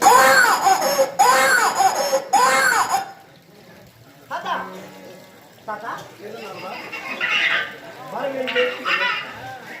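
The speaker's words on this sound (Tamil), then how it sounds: "குழந்தையின் அழுகுரல் ஓசை கேட்கிறது" A baby cries during a Tamil stage drama performance: three loud, close wailing bursts fill the first few seconds, then quieter voices and stage sounds follow.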